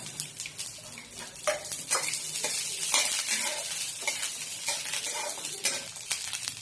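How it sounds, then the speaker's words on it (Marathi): Pavta beans roasting in a little oil in a kadhai, with a continuous sizzle and repeated scraping stirs and utensil clinks against the pan, close up. "पहिल्यांदा मी इथे एक कढई ठेवली, त्यात थोडंसं तेल टाकलेलं आहे। आता आपण हा पावटा आहे ना, हा आपण भाजून घेऊया।"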